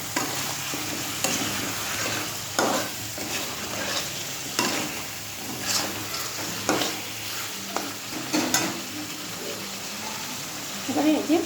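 Radish pieces frying in a pan and being stirred, a steady sizzle broken by repeated scraping stir strokes, with someone talking over it.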